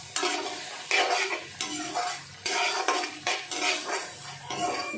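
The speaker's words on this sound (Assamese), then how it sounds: "অলপ ভালদৰে মচলাখিনি ভাজি ল'ম" Spice masala fries in a pan for a watermelon dish in an Assamese kitchen, a spoon scraping and stirring in repeated strokes over a soft sizzle, close and clear with no talking.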